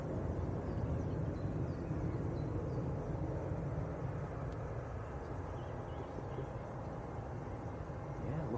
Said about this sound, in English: Next to land, a Lufthansa A320neo from Munich.